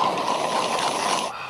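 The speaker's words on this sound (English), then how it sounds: "Water is boiling." Water comes to a boil for specialty coffee, a steady hissing, bubbling rush that stays even and close before easing off at the very end.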